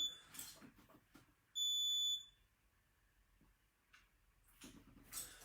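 Rebreather CO2 alert alarm, a single loud, piercing electronic tone held for about half a second, standing alone amid quiet handling noise and faint rustling.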